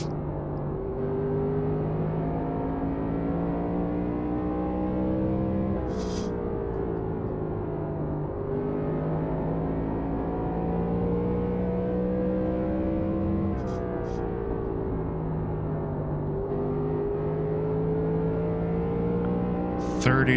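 Race cars lap a short banked oval at Bristol in an amateur sportsman series event, engines droning steadily and rising and falling in pitch as they circle, with brief sharper bursts from passing cars under continuous track noise.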